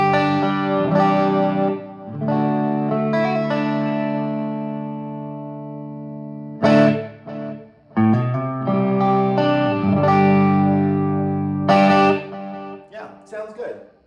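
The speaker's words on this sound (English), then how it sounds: "That felt like a lot of delay to me. Let's check it again." An electric guitar through a 1972 Marshall JMP 50-watt amp with a delay effect plays sustained chords and notes, and repeats trail off after each strike, loud and close.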